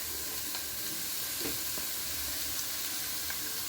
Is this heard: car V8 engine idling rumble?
no